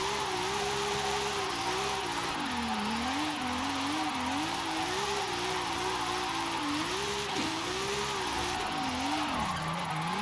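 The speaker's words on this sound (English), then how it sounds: "stuff like sliding around in the corner like this" A car engine in Forza Horizon 5 slides around a corner, its pitch wavering up and down as the throttle shifts while tyres hiss underneath, a loud, continuous game drone lasting about ten seconds.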